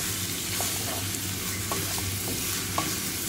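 Minced meat stirred in a pan with five-spice, ginger and garlic, giving a steady low sizzle with soft scraping strokes of the spoon at irregular intervals, close and alone without talk.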